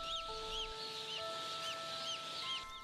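Faint, repeated peeping and clucking from chickens, set against a quiet background with a steady mechanical hum.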